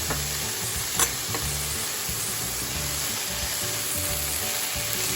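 Salted leafy greens frying in a pan give a loud, dense, continuous hiss and sizzle right up close, with steady stirring and one sharp clank early on.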